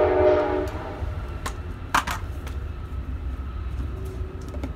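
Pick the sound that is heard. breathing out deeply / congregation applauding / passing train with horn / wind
passing train with horn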